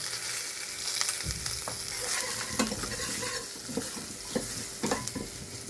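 Asafoetida and turmeric sautéing in a pan with kasuri methi for kadhi gole: a steady close sizzle of frying spices, broken by several scraping stirs of a spoon against the pan, with no talking.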